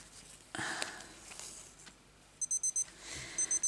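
Timer going off in a sewing room, a run of rapid repeated electronic beeps in short bursts, after faint rustling and handling sounds.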